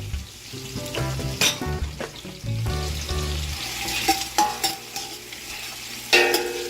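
Bacon frying in a pan alongside onion for chicken adobo with liver and gizzard, loud close sizzle with spatula scrapes and clinks of a utensil against the pan.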